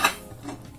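A knife cuts a pineapple into eight pieces for sweet-and-sour chicken, giving a sharp close chop at the start, then softer board taps and a second light cut.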